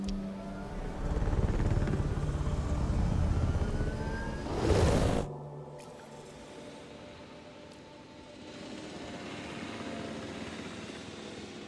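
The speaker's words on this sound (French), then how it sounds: "Hop là, l'hélico il s'est barré." Helicopter in Jurassic World Evolution 2 departing the park, a rotor-and-engine drone that holds for several seconds, then a sudden swoosh as it leaves, followed by quieter ambient game sounds.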